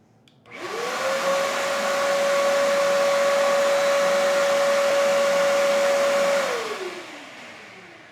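A Ridgid 3.5 horsepower, 6 gallon shop vac switches on, whines up quickly to a loud, steady high-pitched motor roar with airy rush, holds for several seconds, then winds down as it is shut off.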